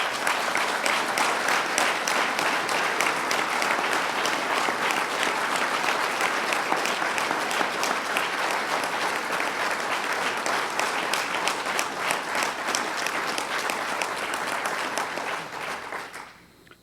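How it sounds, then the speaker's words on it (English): Sustained audience applause from a crowd at a public announcement by a state governor about a $1.5 billion nanotechnology investment, loud and steady throughout before tapering off at the very end. "So join me in giving another round of applause"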